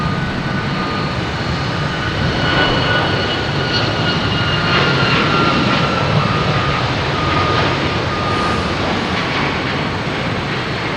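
An Alaska Airlines Boeing 737 jet at Boston Logan Airport, heading to Seattle, produces a loud, steady engine roar with broadband rumble and a faint high whine, continuous and close throughout, with no talking.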